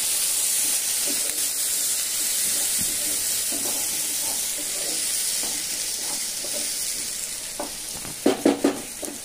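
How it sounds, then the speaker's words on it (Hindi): Three medium chopped onions fry in hot oil tempered with cumin for a dhaba-style egg curry: a steady, close sizzle and hiss throughout, with a few stirring scrapes near the end. "अभी मैं इसमें मीडियम साइज का 3 ऑनियन है, चॉप्ड ऑनियन मैं इसमें डाल रही हूँ।"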